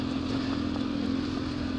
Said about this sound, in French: Sur les coups de gaz, là, la relance, ça patine.